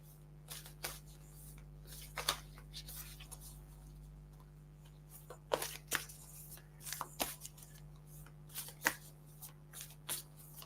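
Oracle cards being shuffled by hand during a reading, a soft papery riffling with scattered crisp flicks and taps over a low steady hum, fairly quiet and close.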